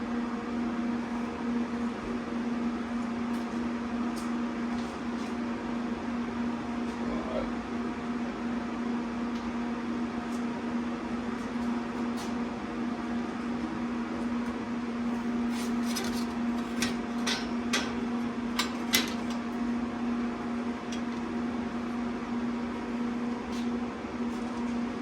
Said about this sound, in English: I'm gonna try and fully weld this, see how good and pretty of a weld I can get.